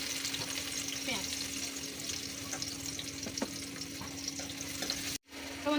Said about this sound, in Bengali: দিয়ে দিলাম কড়াইতে পরিমাণ মতো তেল। এখন আমি দিয়ে দেবো এখানে কেটে রাখা পেঁয়াজ।